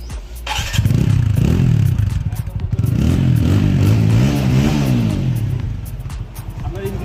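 A used motorcycle at a second-hand bike showroom idles and revs up close, its engine note rising and falling in steady surges with clattering mechanical noise, while people talk nearby.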